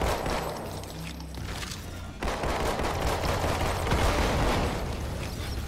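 Rapid pistol and other gunfire in the shooter game Halo 2 Anniversary, dense repeated shots over a loud, busy battle bed that runs without pause.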